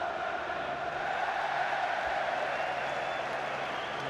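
Cardiff City supporters cheer and clap at the 2012 League Cup Final against Liverpool, a steady distant roar of a large stadium crowd with no distinct breaks.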